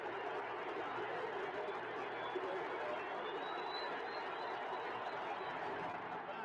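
Steady roar of a baseball stadium crowd during a Pete Rose hit, a broad, continuous wash of cheering and murmuring with no breaks, loud and diffuse throughout.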